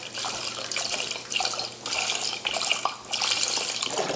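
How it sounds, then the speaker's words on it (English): Liquid poured in bursts into a pot of condensed soup for cornbread dressing, a steady close splashing stream with brief pauses, no talk. "I'm going to pour in about half of this just to cool this condensed soup down a little bit"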